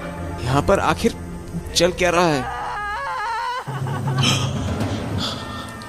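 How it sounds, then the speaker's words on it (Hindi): A woman's wavering wails and sobs rise and fall in a spooky haunted-mansion tale, mixed with a man's speech over a low rumbling background. "ये किसकी रोने की आवाज है?"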